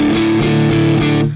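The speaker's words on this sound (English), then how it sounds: "So let's turn on the compressor, and I have like a LA2A, or sorry, 1176, I think, type compressor on." Electric guitar played through a 1176-type compressor on a Line 6 Helix LT, heard as loud, sustained distorted chords that ring alone and cut off at the end.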